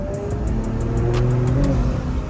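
A stock Infiniti Q50/Q60 engine revs steadily before lower downpipes are fitted, a loud continuous rumble with rising and falling pitch, alone and close.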